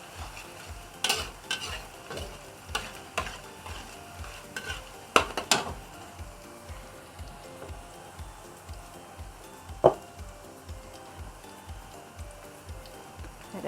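Chopped garlic from a whole bulb sizzles and fries in a pan, with a steady crackle under repeated scraping and stirring strokes and a few sharp utensil clinks against the pan.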